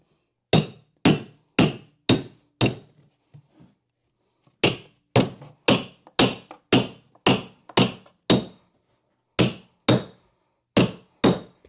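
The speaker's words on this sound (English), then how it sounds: "take your hammer, and you can bang it in." A hammer bangs carpet tack strip down onto its pins, sharp ringing blows in quick bursts of four or five strikes with short pauses between, close and loud against silence.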